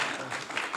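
Conference audience at the 2019 CarverCon gathering applauds a keynote speaker introduction, a soft, steady wash of clapping from a crowd heard at moderate distance without talk over it.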